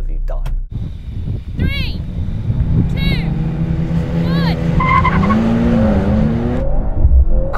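Mercedes-AMG C63, BMW M3 and Audi RS4 racing: loud engines rev and shift gears through rising whines, with short chirps of tyre squeal and people talking over the noise.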